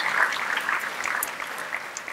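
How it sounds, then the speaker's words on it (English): An audience clapping at an early childhood economics event, dense applause from a room of people that holds steady and begins to thin slightly toward the end. "Let's give all of them a round of applause."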